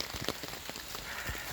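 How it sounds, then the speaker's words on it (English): Rain falling on a rainy day at a barn, a faint, steady patter of drops on a surface with a few slightly louder taps and no voices. "And it's raining."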